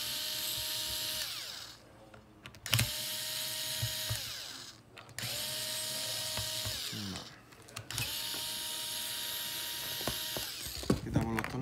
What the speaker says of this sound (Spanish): Quitamos los tornillos.